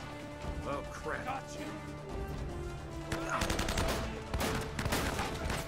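Enemy gunfire in Uncharted: Drake's Fortune, dense crackling shots bursting out over music and game sounds, growing heavier and louder in the second half, with a voice talking over it.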